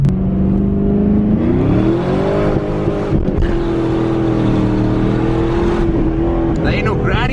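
A stock LS1 Pontiac Firebird accelerates hard on an icy winter road in Saskatoon, its loud engine drone climbing steadily in pitch and then dropping briefly at each gear change, heard close from inside the car.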